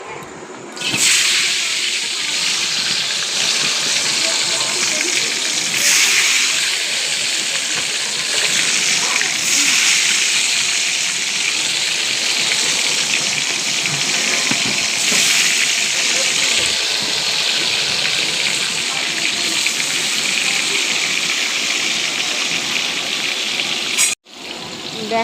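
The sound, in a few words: pointed gourd (potol) frying in oil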